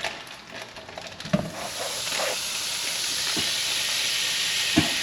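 One stick of butter sizzles and hisses in a preheated frying pan for a Hennessy glaze, a steady bright fizz near the mic after a few clinks, with no talking.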